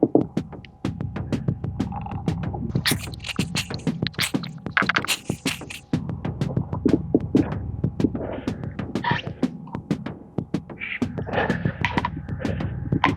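Takumitak knife sawing and forcing its way through a tough steel-reinforced sandblast hose, a run of repeated sharp crunching and scraping strokes with brief pauses, close and fairly loud throughout.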